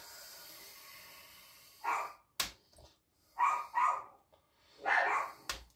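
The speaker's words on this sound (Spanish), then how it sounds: "Veréis, tengo los tres perros ahí." Several dogs bark in short bursts at a rural housing estate, with a few loud, separate barks and pairs of yaps spread across the clip, close by and otherwise alone.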